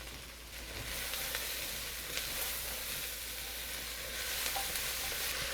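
Carrots and celery added to a pot with garlic for beef stew, sizzling in a loud, steady hiss that swells after the first second, with light stirring clicks, close up and no talk.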